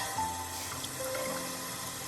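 A soft splash of cold water against a face in a video game gives a brief, watery wash with a faint trickle, alongside quiet background music tones.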